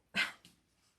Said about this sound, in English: they're going to bark. But that's what dogs do.